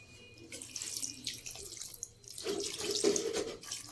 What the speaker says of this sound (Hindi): इतना पानी डालेंगे।